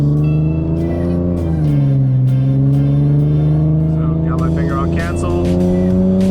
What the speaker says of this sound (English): I'll do a second gear pull for you guys